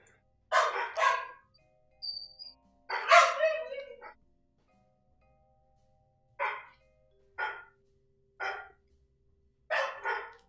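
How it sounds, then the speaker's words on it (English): Dogs barking in short bursts, a couple of double barks early, then single barks spaced a second or so apart, fairly close and clear against near silence. "The dogs have found something to bark about."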